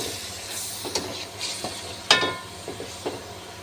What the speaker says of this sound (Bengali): কড়াইতে তেল দিয়ে পেঁয়াজ রসুন বাটা দিয়েছি, দুটো তেজপাতা দিয়েছি।